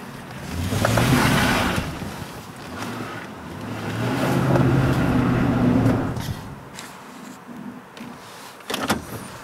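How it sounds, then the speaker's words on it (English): Vehicle mud bogging through thick mud, a steady churning engine roar with sloshing and splashing that swells, eases and surges again, heard close with no talk. "we're gonna go mud bogging here to get back up into the freaking where I park"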